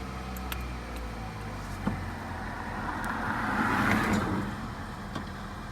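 A 2003 Toyota Corolla with a random misfire fault starts up inside the car. A steady engine rumble swells briefly and then settles into a continuous idle, with a few sharp clicks and knocks on top.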